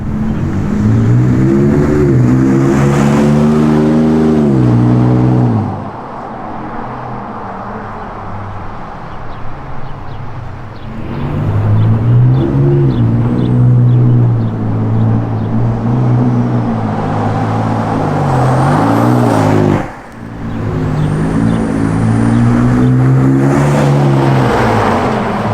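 Ford F-150 pickup with a V6 EcoBoost and its resonator deleted for a Magnaflow setup, driving past several times: loud, deep exhaust drone rising and falling as the truck approaches and recedes, with brief quieter gaps between passes.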